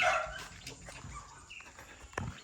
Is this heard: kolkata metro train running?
no